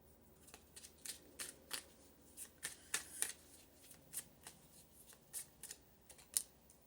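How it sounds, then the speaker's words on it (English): Tarot cards are shuffled and pulled from a deck, giving soft, faint riffling flicks and crisp snaps in an irregular run of taps that are quiet and close. "I'm trying to concentrate on which card I'm pulling"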